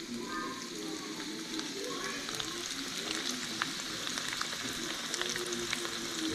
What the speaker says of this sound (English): I'm dropping them in this grease